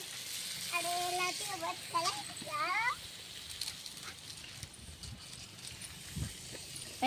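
An onion, tomato and spice mix with turmeric and salt sizzles softly in a pan as it is stirred for chicken bone soup. A voice speaks briefly early on, then light frying and scraping continue.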